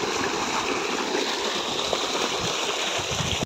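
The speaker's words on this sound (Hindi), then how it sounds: "यहाँ पर पानी आ रहा है देखो, और यहाँ से होकर है ना खेत में जा रहा है यहाँ पर" Water flowing along a channel into a farm field in a village, a continuous close rushing gurgle at even strength from start to finish, with no one speaking over it.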